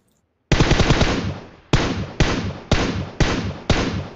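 Loud gunfire in PUBG: a long rapid burst of automatic shots followed by five evenly spaced heavy single shots, each with a decaying echo tail, close and with no talking.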